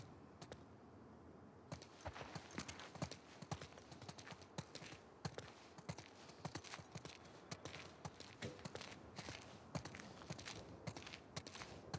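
Horse hooves clip-clop steadily in The Last of Us Part II, a continuous rhythmic walking patter close by with faint ambient background throughout.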